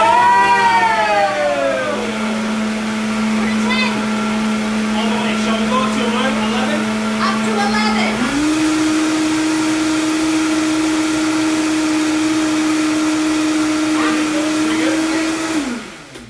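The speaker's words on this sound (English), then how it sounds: "What's cool about the Vitamix is that the motor is so cray that it warms up." A Vitamix blender runs at full speed while blending vegan mac and cheese sauce, a loud, steady motor whine that climbs in pitch as the speed steps up, then holds a constant drone until it cuts off near the end.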